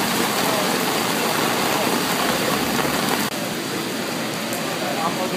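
Heavy rain pours down in a dense, steady hiss close by, with a faint voice partly hidden under the downpour.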